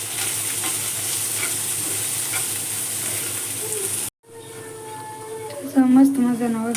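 Spices and vegetables sizzling in hot oil as they are stirred, a steady loud hiss for several seconds before cutting off, then a voice speaking over quieter cooking.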